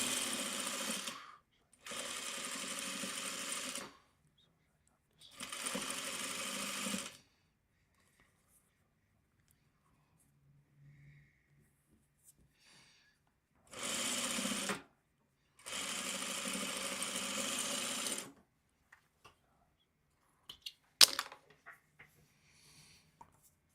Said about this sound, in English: Let's sew off on this scrap.